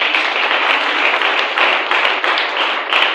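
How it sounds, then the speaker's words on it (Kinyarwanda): A church congregation applauds in a dense, steady wash of clapping that carries on without a break, with a few sharper individual claps standing out from the crowd. "Wakomeye Imana amashyi"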